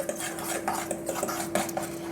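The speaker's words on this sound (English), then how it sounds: "So we're going to add our egg to the ground almonds." Spoon stirring egg into ground almonds in a bowl for a keto tomato tart crust, giving a steady run of clinking, scraping strokes close by with no talking.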